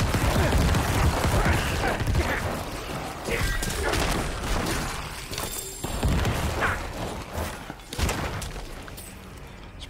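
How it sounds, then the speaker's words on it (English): Corpse explosion skill in the Diablo IV video game: a dense, continuous barrage of crashing blasts, thuds and shattering impacts layered with mechanical clatter, loud and sustained throughout with no pauses. "corpse explosion can be kind of fun"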